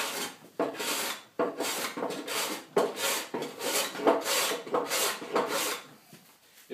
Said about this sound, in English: So I'm planing across the surface to even it before sanding.